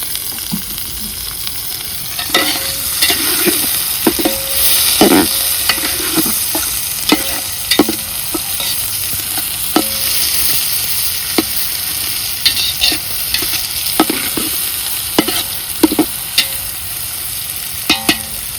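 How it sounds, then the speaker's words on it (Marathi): Onion frying in oil and stirred for biryani cooked over a wood-fired stove, a steady loud sizzle throughout with repeated scraping and clanking strokes of a spoon against the pot, close up with no talking. "कांदा चांगला कोरडा झालाय भाजून. आता तेल टाकून चांगला परतून द्यायचं."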